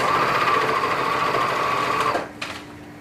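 A sewing machine stitching a garment for a curvy-fit pattern sew-along runs in a steady, close, loud whirring drone, then stops abruptly, leaving a quiet click and faint hum.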